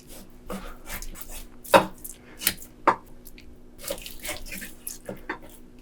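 Beef is cut into large pieces on a cutting board. A few sharp knife strikes ring out among softer wet cutting sounds, fairly quiet and close, with no speech.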